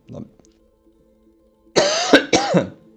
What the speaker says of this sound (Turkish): Öksürük tuttu ya.